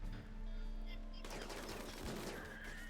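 Turret gunfire in RimWorld during a raid on a colony wall: a steady, fairly quiet rattle of rapid shots joins in partway through over a background hum and other game sounds, with no speech.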